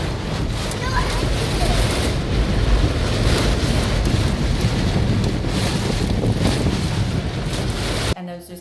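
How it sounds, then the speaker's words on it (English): Heavy storm wind in Sardinia roars and batters the microphone without letup, a thick, rushing noise that cuts off abruptly near the end. "we're in a bit of an epic storm at the moment."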